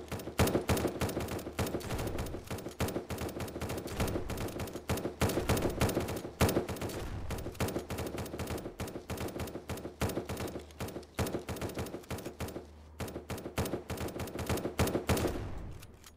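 Defensive guns in the video game SurrounDead fire rapid, loud automatic bursts that run almost continuously, a dense crackling barrage with only brief thinning near the end and no voices.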